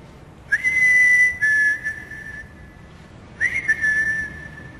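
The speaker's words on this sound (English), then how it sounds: "Can you whistle again?" Someone whistles at night in a quiet, abandoned-feeling town: two long, clear, near tones with a short break, then a pause and a third sliding tone, each held steadily against a hushed background.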